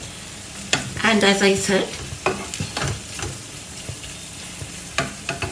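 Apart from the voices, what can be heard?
stirring potato fry with coriander in a pan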